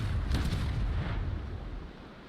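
A mortar brig fires in the naval battle game Naval Action, giving one deep booming blast with a rolling low rumble that lingers and slowly fades.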